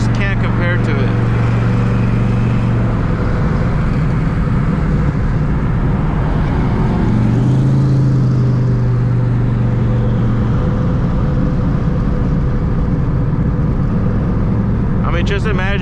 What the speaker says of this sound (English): you floor the car, you never let off the gas, you're still shifting it, but it's just a constant pull